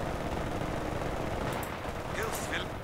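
In Company of Heroes 2, enemy machine-gun and rifle fire rattles as a dense, continuous battlefield din. Voices call out faintly underneath.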